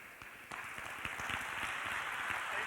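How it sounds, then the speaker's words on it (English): Applause from an audience after a technology conference talk, starting as scattered claps and swelling into a sustained, even wash of many hands at a modest, slightly distant level. "Amelia Kallman, round of applause."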